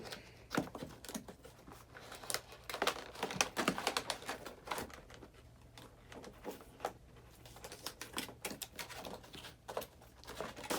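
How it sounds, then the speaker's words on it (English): Continuous crinkling and tearing of plastic and cardboard packaging from NECA Golden Girls action figures, with sharp snips of scissors and rustles throughout at close range. "You need the scissors to get Sophia out of there."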